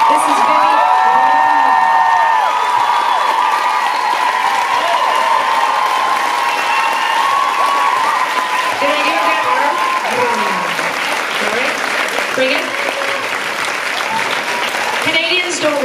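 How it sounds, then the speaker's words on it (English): A rock concert crowd at Rockefeller in Oslo claps and cheers loudly after the band introductions, with sustained dense applause, whoops and shouts throughout, and a brief tonal ring from the stage at the start. "I want an extra large, amazing round of applause."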